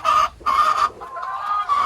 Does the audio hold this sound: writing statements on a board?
no